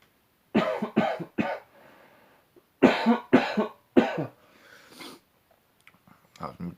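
A person coughs several times in two short bursts, close by, followed by quiet breathing and faint rustling.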